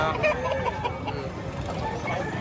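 Chickens clucking at a farm in Batangas where birds are offered for sale. The clucks are faint and scattered over a murmur of voices and background noise.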